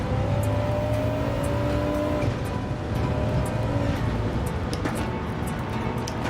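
Audi race car in Gran Turismo 7 running steadily at speed, a continuous engine drone with tonal whine and faint tire noise, loud and up close throughout.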